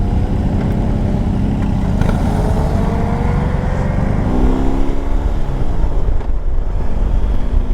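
Loud, close engine drone from a BMW R18 B motorcycle under way, shifting through gears with a heel shifter, the pitch dropping and changing at each shift over a continuous road roar, with no voices.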